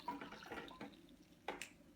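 Hot water at around 80 degrees C poured into an AeroPress, a short, faint splashing trickle with a couple of small gurgling bursts.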